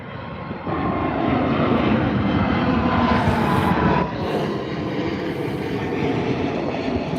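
Lufthansa Airbus A320 taking off into fog at Birmingham Airport: a loud, steady jet engine roar that jumps up after a soft start, holds strong, then eases slightly and carries on as a broad rumble.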